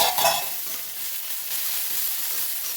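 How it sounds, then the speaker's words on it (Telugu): Sliced onions fry and sizzle in a pan for an urad dal wadi curry, a steady close hiss with a few light stirring scrapes, heard alone without talk. "ఉల్లిపాయ అనేది కొంచెం వేగేసిందండి"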